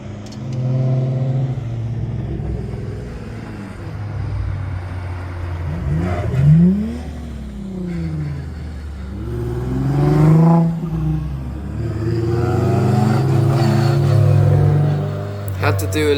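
Rally car engine at a rally school in Ireland, revving repeatedly while driving, loud and close, with rising and falling engine pitch through gear changes and a steady throaty drone between revs.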